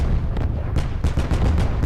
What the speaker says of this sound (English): we're going to have an artillery strike coming down in that position right now